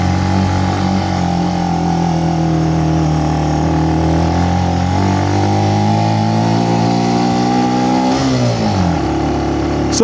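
A Benelli BN125 motorcycle rides steadily toward Hardknott Pass, its small engine droning loud and close with a continuous steady hum and a brief dip and shift in pitch near the end, no voices.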